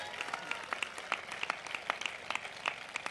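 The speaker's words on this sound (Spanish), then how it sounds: "el aplauso va de suyo" Audience applause at a political rally, a thin spread of clapping with sharper individual claps standing out, fairly distant and steady throughout.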